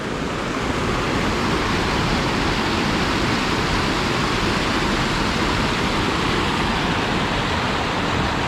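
Steady broadband rush of Red Creek flowing through the Dolly Sods Wilderness, a continuous, fairly loud water roar with no break or voices over it.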